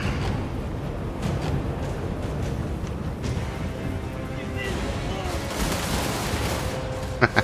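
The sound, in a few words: gunfire volleys in video game Total War: Warhammer 3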